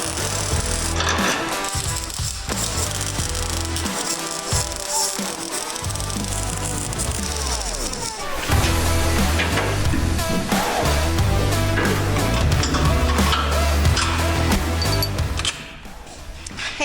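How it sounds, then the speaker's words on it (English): Welding on a 4-link suspension plate for a tiny offroad wrecker build, harsh crackling and buzzing arc bursts that stop and restart, with a louder stretch in the second half. "Then I can go ahead and pull the hymen out, finish welding this up."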